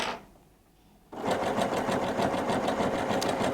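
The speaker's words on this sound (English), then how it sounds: "I'm going to sew until this upcoming edge of my applique lines up with that red line right there." A Husqvarna Viking Jade 35 sewing machine stitching applique starts after a second of near silence, then runs in a fast, even, rattling whir of needle strokes, close and steady.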